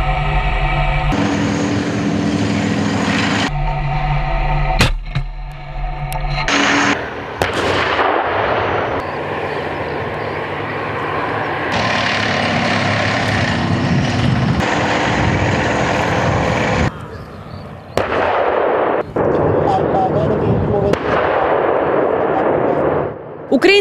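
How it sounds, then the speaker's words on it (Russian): Heavy booming gunfire from a tank platoon's live-fire attack exercise, repeated blasts and sharp cracks with rumbling engine noise and roaring between shots, loud and close. "боевая стрельба взвода в наступлении"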